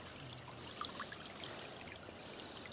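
Water running out of a pond through a freshly dug drainage trench beside a dam, a faint continuous trickle and gurgle with a few small splashes.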